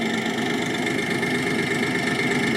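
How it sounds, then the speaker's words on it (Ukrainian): A YTO 244SX mini tractor's small diesel engine idles steadily nearby, a constant mechanical drone with a faint knocking rhythm. "Ви чуєте звук роботи двигуна у трактора Юто 244."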